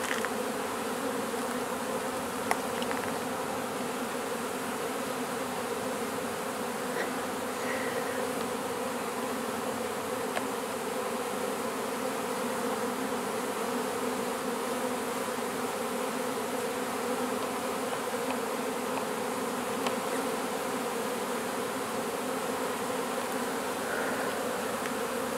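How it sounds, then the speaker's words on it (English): Honeybees buzz steadily around an open hive during a queen release, a dense continuous drone of many wings close by with no talk over it. "So all the other bees need to get out of here."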